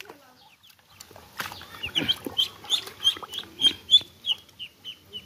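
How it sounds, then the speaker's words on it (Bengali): Chinese ducks in a small pond let out a rhythmic series of nasal calls that grows louder, with faint splashing and quieter sounds before it. "এটা হলো চীন হাঁস, আপনারা যারা দেখেন নাই দেখেন।"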